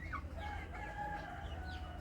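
Native chickens on a farm, with a rooster calling and clucking to the hens: short, faint clucks and calls over a low background hum, no talk.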